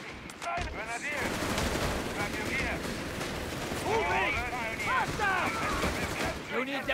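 An MG-42 machine gun in Company of Heroes 3 battle fires in sustained rattling bursts amid other gunfire and battlefield noise, while soldiers shout over the din.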